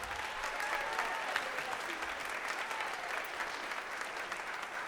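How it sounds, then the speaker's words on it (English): Audience applause at a high school concert band winter concert, a steady dense wash of many hands clapping at moderate level throughout, with no talking over it. "Give Tracy Dean a big round of applause."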